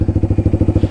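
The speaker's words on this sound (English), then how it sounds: "you realize that your exhaust is 9 million decibels and you can't even hear what you're" Honda Rebel 300 motorcycle fitted with a loud Two Brothers aftermarket exhaust, a close, rapid, evenly pulsing low thump of firing beats at a steady low-rev idle or cruise, loud and without talk.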